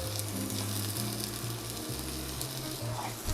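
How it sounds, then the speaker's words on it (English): Mushrooms sear in a hot pan on the stovetop, lightly salted, giving a steady close sizzle and frying crackle with low hum underneath throughout. "we're gonna cook the mushrooms the entire time on top of the stove"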